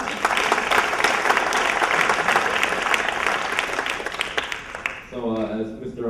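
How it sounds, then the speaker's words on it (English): Audience at a high school top-20 awards dinner applauding two student speeches, a loud sustained wash of many hands clapping that fades out near the end, where a voice starts speaking. "So could we give them another round of applause?"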